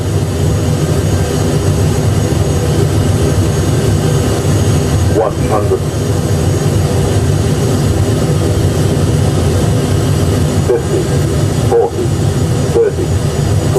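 Steady, loud broadband roar of Airbus A320 jet engines and airflow inside the cockpit during a crosswind landing, continuous throughout with faint brief voices underneath.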